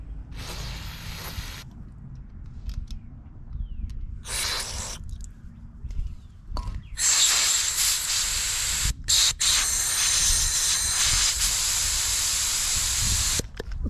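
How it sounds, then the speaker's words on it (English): Carb cleaner sprayed onto a Craftsman MTD snow blower carburetor in short bursts, followed by a long, loud, sustained blast of compressed air with brief interruptions, close and alone. "I think I'll hit it with some carb cleaner and compressed air and make sure it's clean"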